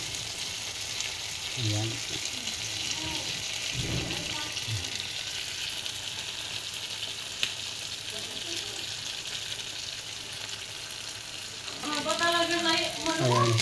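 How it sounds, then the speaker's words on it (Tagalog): Sisig with two eggs cooking on a hot sizzling plate gives a steady, close hissing sizzle throughout, with a person talking briefly over it. "Sizzling sisig. Lagyan natin ng 2 itlog."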